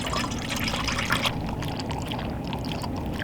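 Water is poured for a puppy, a close steady trickle and splash of liquid that runs for a few seconds, fairly quiet, with no talking.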